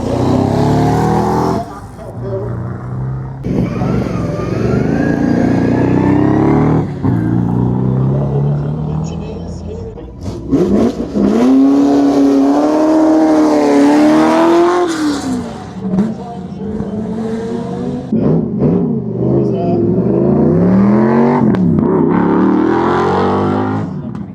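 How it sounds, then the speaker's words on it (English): A Rover V8-powered car accelerates up the Kop Hill hill climb, a loud, sustained engine note rising and falling in pitch with revs, while a commentator talks over it throughout. "But this, with a Rover V8 under the engine, that's got to be a good thing."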